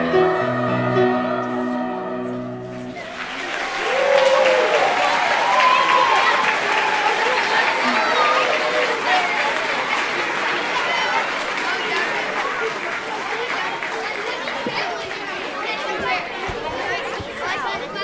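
Audience applause and cheering fill an elementary school spring concert after the children perform a song, beginning abruptly and continuing as a steady, loud wash of clapping with crowd chatter throughout.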